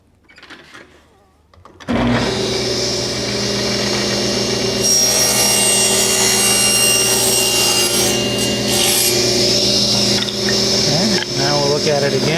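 A power saw cuts through a wooden piece being trimmed, kicking in after a brief quiet start and then running loud and steady for several seconds, with a voice heard faintly at the start.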